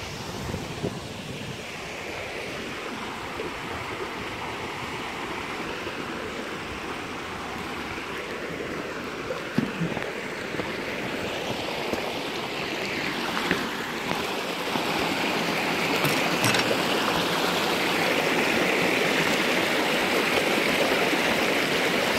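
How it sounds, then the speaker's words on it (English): Class 5 whitewater at the Pauls Valley rapids roars steadily and loudly throughout, a dense continuous rush of churning water with wind buffeting the microphone, swelling slightly toward the end. "The Pauls Valley Rapids right here. Class 5."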